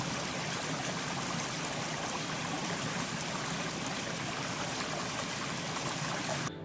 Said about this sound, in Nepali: हात्तीको टाउकोबाट झरेको झरनाको